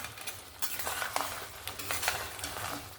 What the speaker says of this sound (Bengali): ভালো করে আরেকবার নাড়াচাড়া করে দিলাম